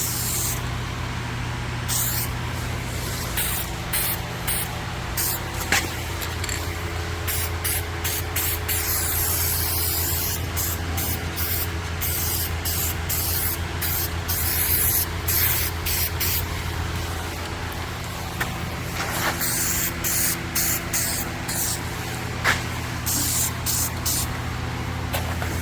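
Repeated short bursts of anti-rust paint hissing from a spray can onto old boat parts and road-sign metal for a kart build, close and crisp, with a steady low engine hum underneath.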